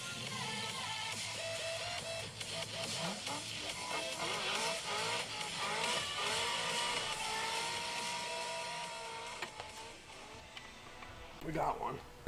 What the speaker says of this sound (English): Look at old C6 ZR1 doing a burnout.